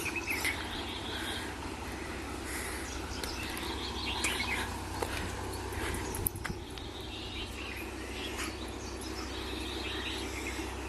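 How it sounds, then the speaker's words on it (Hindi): Birds chirp and call in a village at dawn around 5 a.m., scattered tweets over a constant low hum of a nearby wheat thresher, with insects buzzing faintly in the background. "चिड़िया की आवाज़ भी सुन लो"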